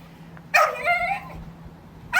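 A dog in training barks sharply twice, a loud yelping bark followed after a pause by another, near and clear over a quiet background.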